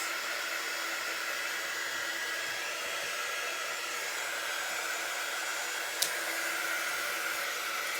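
Hair dryer blowing on a glitter-covered Halloween witch stencil, a constant close whooshing hum with one sharp click near the end.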